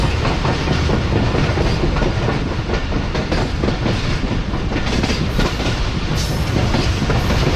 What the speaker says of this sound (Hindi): ट्रेन जो है हमारी वो गाड़ियों से रेस लगाते हुए अब बढ़ रही है आगे टिग रोड जंक्शन की तरफ।